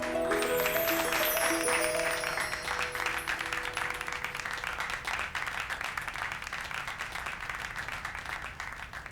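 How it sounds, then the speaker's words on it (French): Applause at a wedding celebration party, steady clapping from a crowd that continues throughout, mixed with bright music at the start, moderately loud. "vos applaudissements ne suffisent pas"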